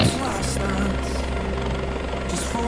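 A helicopter in the video game Flight Simulator X gives a steady, droning rotor and engine hum that holds constant throughout, with intermittent voices over it.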